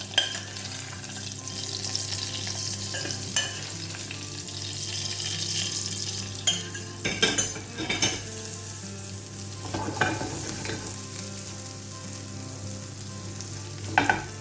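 Golden-browned little onions tipped in with frying mushrooms for beef bourguignon produce a steady, close sizzle, with scattered clattering knocks and scrapes from stirring in the pan.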